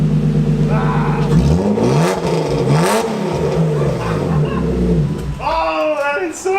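A BMW E36 325i with its muffler deleted revs loudly up close, the raw exhaust rising and falling through several throttle blips while people exclaim over it near the end.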